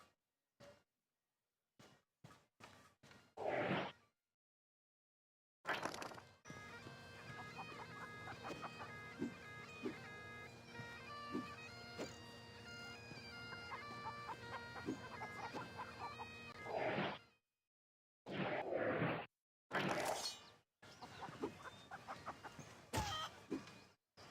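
Chickens clucking in an action RPG, a run of short, close clucks and squawks over a steady game music bed with a bright tonal melody, with brief bursts of other effects before and after.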